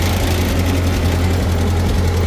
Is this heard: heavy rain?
no